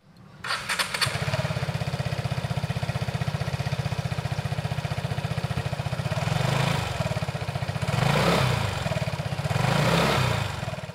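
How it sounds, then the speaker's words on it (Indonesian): A Vespa Sprint scooter engine starts up and settles into an even, rapid putter at idle. It swells a few times with light revving, close by and alone. "ketika kita coba nyalain motor ini memiliki suara mesin dan getaran yang sangat halus"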